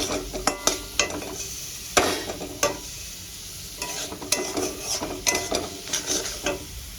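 Spices being sautéed in a pan over low flame for a light katla fish curry with potato and pointed gourd, a steady sizzle broken by sharp scraping strokes of a spatula at an irregular rhythm.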